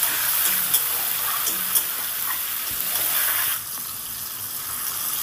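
Tomato frying in hot oil with salt in a pan, cooked for a silver carp fish curry, gives a steady close hiss and sizzle that fades down near the end.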